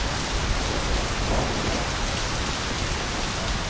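Steady, dense rain falling in the video game My Summer Car, a constant loud hiss of drops on surfaces with no break and no voices.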